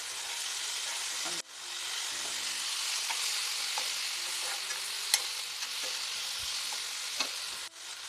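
Chana dal fries in a pan with a constant hiss of sizzling oil, while a spoon scrapes and taps now and then as it stirs. No one speaks.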